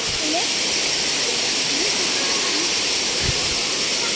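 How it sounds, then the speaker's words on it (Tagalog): Water rushes steadily through a channel carrying it toward a village near a waterfall in Bicol, a constant broadband roar with faint voices and a few brief bumps underneath. "Ito po yung daanan ng tubig"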